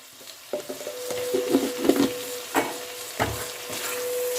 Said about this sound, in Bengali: ভালো করে মিশিয়ে দিয়ে